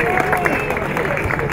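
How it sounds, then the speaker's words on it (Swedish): A crowd gathered on a town square in Åtvidaberg claps and murmurs in a steady, loud burst of applause, with chatter mixed into the clapping throughout. "ge dem en stor applåd!"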